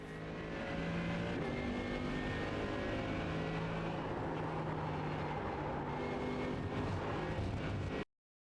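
A race car on the Watkins Glen circuit holds partial throttle, its engine droning steadily and loudly up close for about eight seconds before cutting off abruptly.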